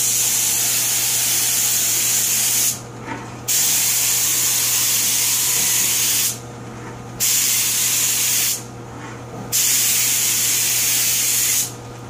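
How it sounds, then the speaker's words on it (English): An airbrush sprays paint in long, steady hissing bursts onto a Ludwig drum's black and gold duco finish, stopping briefly three times, with a low constant hum underneath. "I'm going to show you how I spray it here."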